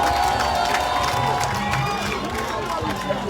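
Large crowd at an event for Sierra Leone's First Lady cheering and clapping, a dense steady wash of applause and shouts, with a voice speaking over it.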